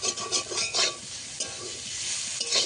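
Bitter gourd fries in a pan with a constant close sizzle, while a spatula rubs and scrapes through it in rhythmic sweeping strokes, without any voices.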